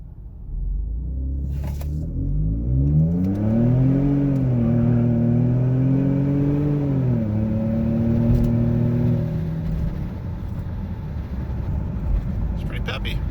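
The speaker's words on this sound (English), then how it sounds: "We'll take her for a rip, see if it'll do a wide open throttle pull without falling on its face." A 2014 Ford F-150 Tremor EcoBoost engine, freshly repaired after a misfire, makes a wide-open-throttle pull: a loud droning engine note climbs and holds for several seconds, then drops away to a quieter idle rumble.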